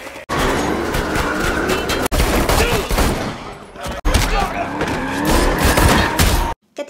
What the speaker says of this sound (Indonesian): Aksi tembak pun tak terelakkan.